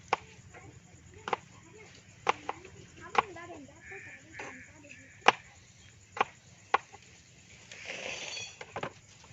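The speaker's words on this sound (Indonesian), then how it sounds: "Kemudian tomatnya kita belah." Two tomatoes being halved with a knife for green sambal, sharp separate chopping clicks on a board spaced a second or so apart, with quiet background rustle.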